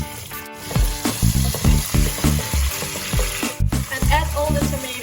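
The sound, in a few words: garlic and green pepper sizzling in oil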